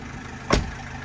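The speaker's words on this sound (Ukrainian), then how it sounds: "Щоб запустити кондиціонер, от включаємо на позицію, першу чи другу. От і слухаємо. От як зразу змінилась робота двигуна." A 2010 Renault Trafic 2.0 diesel idles steadily up close, with one brief louder surge mid-way as the air conditioner switches on and the engine takes on load.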